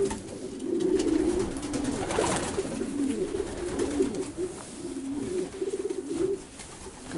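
Racing pigeons, flying hens in a Romanian loft, coo steadily and close by, a continuous low rolling chorus of overlapping calls with faint rustling throughout.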